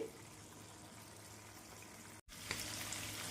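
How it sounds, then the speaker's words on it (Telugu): Prawns cooking uncovered in an open pan give off a steady, quiet frying hiss and sizzle, with a short break and then a slightly brighter sizzle near the end. "ఒక ఐదు నిమిషాల దాకా ఈ రొయ్యల్ని మనం ఉడికించుకోవాలన్నమాట"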